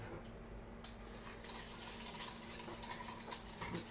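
A spoon stirs dalgona coffee mixture with hot water in a cup. The scraping and clinking is faint and continuous, with a sharp tap near the start and no speech.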